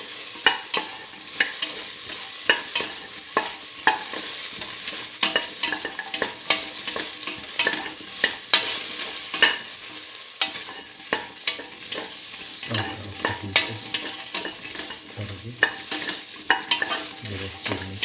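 Beef and okra stew sautéing in a pan, a steady crackling sizzle with frequent scraping stirs throughout and a few heavier knocks near the end, with no voices.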